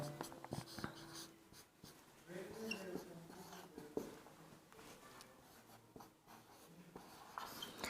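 A marker or chalk scratches and taps across a board during a math lesson, short strokes in irregular bursts with quiet breathing and faint background sounds between them.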